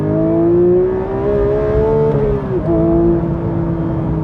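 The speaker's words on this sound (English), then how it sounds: "But it just revs all day long, this car, absolutely all day long." Porsche 911 992-generation GT3 with manual gearbox, its engine revving loudly and steadily with a high, rising tone that dips briefly near the end before climbing again, heard up close with no talking.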